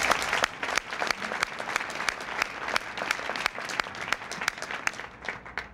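Sustained applause from an audience at a Reagan fundraiser for Governor Jim Thompson, dense and steady clapping throughout with no talk over it.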